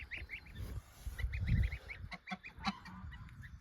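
A goose shut inside a cage honks repeatedly at close range in a string of short, rough calls, with no talking.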